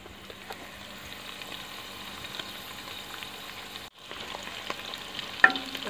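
Green chillies frying in a pan give a steady soft sizzle with light stirring scrapes, a brief pause partway through, then the crackle resumes with a sharper tap near the end.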